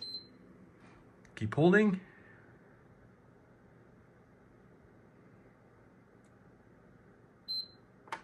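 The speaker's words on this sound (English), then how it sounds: "You want to keep holding on the power button of the PS5." A PS5 console gives short, high electronic beeps while its power button is held down, one near the start and another much later, with a brief spoken phrase in between and quiet room tone otherwise.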